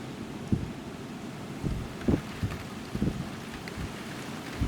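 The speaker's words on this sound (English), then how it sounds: "Oh, here comes the rain." Rain setting in during Storm Isha, with winds up to 100 mph over the UK and Ireland: a steady broadband wash of falling rain and wind buffeting close by, with a few louder gusts or thumps, no voices.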